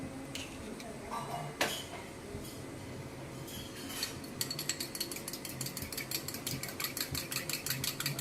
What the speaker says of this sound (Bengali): আমি একটা ডিম ভালো করে ফেটিয়ে নেবো